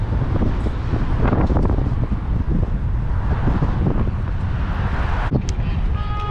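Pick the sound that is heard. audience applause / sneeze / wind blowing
wind blowing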